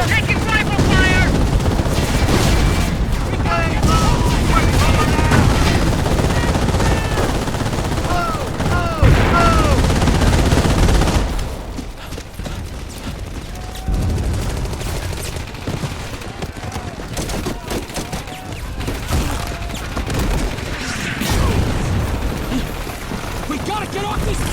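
Rifle and machine gun fire in a Company of Heroes Omaha Beach battle, dense overlapping bursts and explosions under shouted soldier voices throughout.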